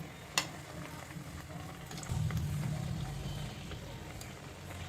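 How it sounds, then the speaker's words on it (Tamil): Wheat flour snack with curry leaves dropped into hot oil, a sharp tap followed by a soft, steady frying sizzle that swells partway through, faint throughout. "இப்போ நம்ம இதை எண்ணெயில் பொறிச்சு எடுத்துடலாம்"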